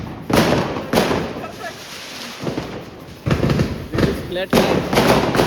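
Diwali firecrackers go off in quick sharp bangs, several close together, while voices chatter over the noise.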